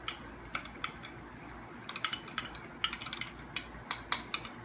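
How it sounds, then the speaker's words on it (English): Baked beans stirred together with bacon fat in a pan, with light, irregular clinks and scrapes of a utensil against the metal. The sounds repeat softly and close by with no talking. "Mix this all together."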